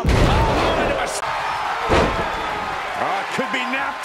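A wrestler is slammed onto the mat with a power bomb in a TNA match between Moose and PCO. A sharp thud lands amid crowd noise while a commentator talks over the action.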